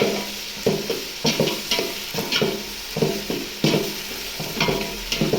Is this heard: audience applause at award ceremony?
no